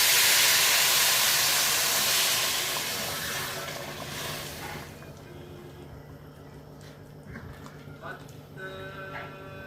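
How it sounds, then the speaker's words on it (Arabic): Hot water pours into a cooking pot of salted kabsa made with Egyptian rice, a loud steaming hiss and rush at first that fades to a quieter simmer with faint clinks. "وننزل بالميه السخنه"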